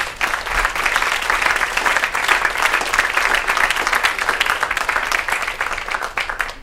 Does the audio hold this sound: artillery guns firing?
no